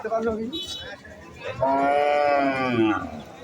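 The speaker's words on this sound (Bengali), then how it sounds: "গুরু হাম্বা হাম্বা ডাকতেছে শুনতে পাচ্ছ" Cows at a large cattle market low loudly and close by, one long drawn-out moo following shorter calls, over a crowded background murmur.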